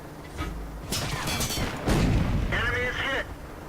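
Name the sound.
tank cannon firing in World of Tanks video game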